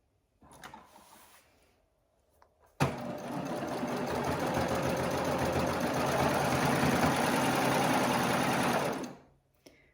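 A sewing machine stitches the shoulder seams of a gathered peplum dress, with a few brief starts and then a long steady whirring run of about six seconds before it stops.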